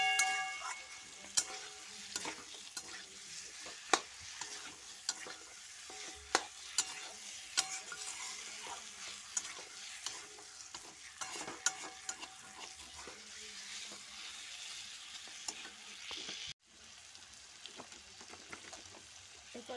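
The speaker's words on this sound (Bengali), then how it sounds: "ভালো করে মশলাটা মাংসের সাথে মিক্স করতে হবে, যাতে মশলাগুলো সব মাংস ভেতরে ঢুকে যায়।" Chicken and spices sizzle faintly in a pan, with frequent light scraping and clicking taps from stirring scattered throughout.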